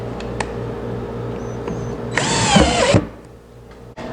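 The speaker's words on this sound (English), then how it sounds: "put these temporary screws in place" A power drill drives temporary screws into an oak assembly table in a woodworking shop, giving one loud, close whirring burst just under a second long, then stopping.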